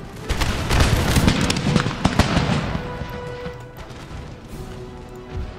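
A musket volley fired by line infantry in Empire Total War, a loud rolling crackle of many shots at once that fades into a lingering battlefield rumble.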